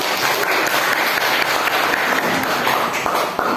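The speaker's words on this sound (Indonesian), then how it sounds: "Kita beri tepuk tangan" Classroom audience clapping after a student group presentation in a teaching practice lesson, a loud, dense burst of many hands close by, continuous for a few seconds and cutting off abruptly near the end.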